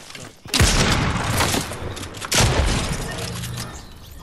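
Gunfire in the video game Fortnite, two loud, dense bursts of rapid shots, each starting with a hard crack and rolling into sustained fire close up, with a brief lull between them.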